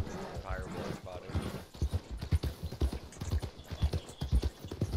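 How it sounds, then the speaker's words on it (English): Steady clip-clop of a horse's hooves walking at an even rhythm in the video game Red Dead Redemption 2, fairly close, with voices talking over them. "You're actually a pretty beautiful horse."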